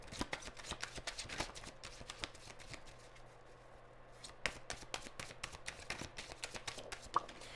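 Tarot cards from a Street Priestess deck shuffled in rapid crackling riffles and flicks, close and steady with a brief lull midway and a sharper snap near the end.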